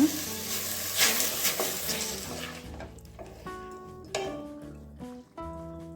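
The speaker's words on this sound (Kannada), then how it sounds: "ಈಗ ಟೊಮೆಟೊ ಹಾಕ್ಕೊಳ್ಳೋಣ ಚೆನ್ನಾಗಿ ಕಟ್ ಮಾಡ್ಕೊಂಡಿದ್ದೀವಿ ಇದನ್ನು ಕೂಡ ಚೆನ್ನಾಗಿ ಫ್ರೈ ಮಾಡ್ಕೊಳ್ಳೋಣ" Chopped tomatoes and green chillies frying in a pan for a brinjal gravy, a soft sizzle with stirring scrapes and light clinks at first, fading toward quieter hiss and scattered utensil taps.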